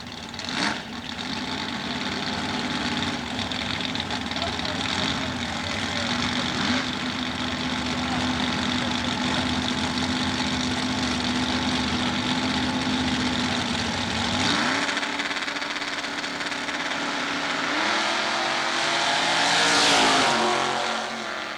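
Chevrolet drag cars in Super Gas racing at Southeastern Dragway roar with a loud, steady engine drone that holds for about fifteen seconds, then shifts pitch and rises again as another car revs near the end.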